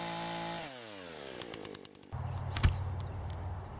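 A chainsaw cuts a log to length for the corners of raised garden beds: the engine note falls as it winds down, then the saw revs up loud and close and bites into the wood with a rough, rasping roar.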